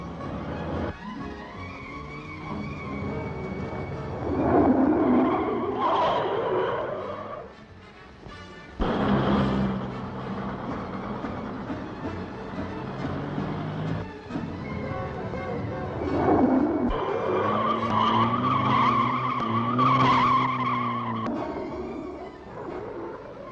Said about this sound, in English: all learner drivers have to go through the ordeal by skid before they qualify